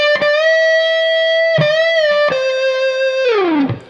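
A slow phrase played on a distorted electric guitar, with a few picked notes, a long sustained bend, then a descending slide, clear and alone.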